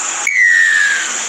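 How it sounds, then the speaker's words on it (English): A referee's single sustained whistle blast opens a rugby league kickoff at Western Sydney Stadium, heard loud and clear over the steady roar of a stadium crowd. "Blow that whistle, ref."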